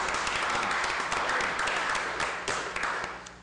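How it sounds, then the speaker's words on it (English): People in a city council chamber clap together for a few seconds, a dense, fairly loud burst of applause that tapers off toward the end. "You weren't clapping for me, were you?"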